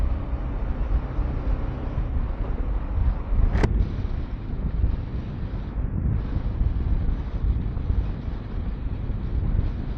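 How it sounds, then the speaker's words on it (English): Gusty wind buffets the microphone on an outdoor ride near Harquahala Mountain, a continuous low rumbling roar with one sharp brief crackle partway through, loud and close. "It's a little windy today"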